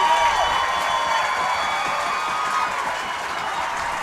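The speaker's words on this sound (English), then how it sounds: "The crowd's coming alive a little bit." A high school football crowd at Monroe cheers and claps after a Monroe touchdown against Lake Stevens, a steady roar of applause with a faint whistle or horn tone, slowly easing off.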